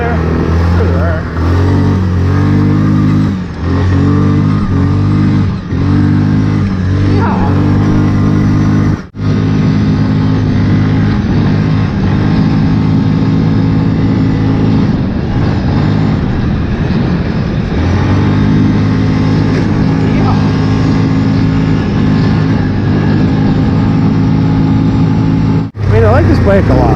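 A 2018 Kodiak 450 ATV rides through wet, muddy spring terrain, its engine humming loud and close with a steady droning tone and brief throttle dips. A rider talks over the noise.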